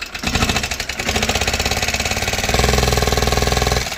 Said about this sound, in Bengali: তো ইঞ্জিনের সাউন্ডটা আমরা শুনি আগে।